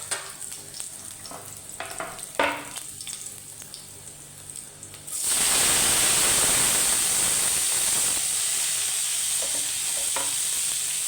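Onion and garlic hit a hot oiled pan and start sautéing, a few quiet handling knocks first, then a sudden loud, steady sizzle that holds close and even to the end.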